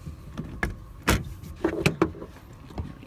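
Rear seats in a 2004 Honda Mobilio Spike are folded back into position, giving a series of close thumps, clunks and plastic rattles as the parts latch into place.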